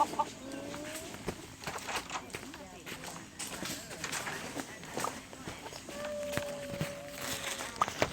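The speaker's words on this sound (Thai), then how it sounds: "ก็ว่าทำไมไก่เดี๋ยวนี้มันเยอะจัง มันหนีออกจากเล้ามันเอง" Chickens in a survival video game cluck and squawk intermittently alongside footstep-like scuffs and game sounds, with a voice talking over them throughout.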